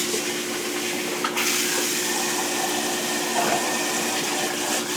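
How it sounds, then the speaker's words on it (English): Water runs into a pot of rice being rinsed for sushi, a loud, steady rushing gush with slight splashing variations and no talking. "I just wash my rice right in the pot."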